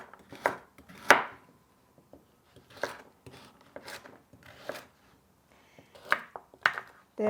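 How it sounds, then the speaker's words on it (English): Carrots are chopped with a knife on a cutting board in a series of separate, fairly faint cuts spaced irregularly with quiet gaps between them, close by, with no talking. "We'll cut it. Cut the carrots too."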